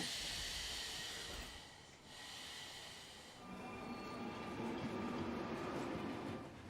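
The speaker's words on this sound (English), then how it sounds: "Ken, listen to this noise. It's a train that Ray just got on" A moving train rumbles steadily with a broad hiss and faint high whine, heard from inside or close by, no voices, in the film In Bruges.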